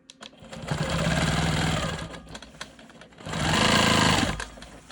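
A Quilt Maker Pro 20 quilting machine stitching in two bursts of rapid mechanical chatter separated by a brief quieter pause, close and fairly loud.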